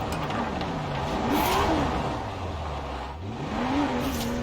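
A race car in a racing video game drifts in third gear, driven with a Thrustmaster TMX force feedback wheel: the engine note swoops up and down in pitch as revs rise and fall, steady and loud with no talk.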